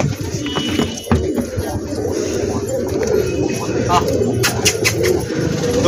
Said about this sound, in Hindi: ये बैठा है जंगली कबूतर